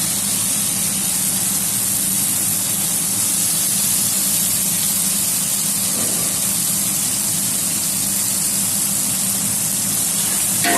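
Tomatoes added to a hot pan for vegetable pulao set off a loud, steady sizzle that runs unbroken throughout, with no voices.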